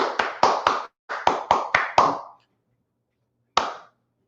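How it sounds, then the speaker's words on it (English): A church clap of hands struck on beat: two quick bursts of sharp, close claps in a steady rhythm, four then five, followed by a pause and one final single clap, with no talking. "Do a church clap."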